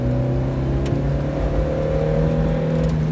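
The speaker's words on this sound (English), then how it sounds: "Full throttle, second gear," A Toyota AE86's engine holds a steady full-throttle drone in second gear, its tone climbing gradually as revs rise, with no speech over it.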